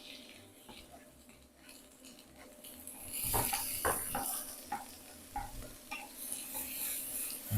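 Onion, ginger and chili sizzle in a pan of dal spices with turmeric, a soft frying hiss that builds midway, with stirring and a few clinks against the pan.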